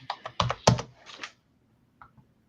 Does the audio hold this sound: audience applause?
no